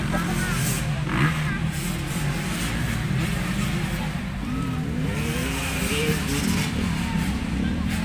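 Kawasaki motocross motorcycles at a supercross competition rev and accelerate in a continuous loud engine drone with rising and falling pitch, while people talk over it.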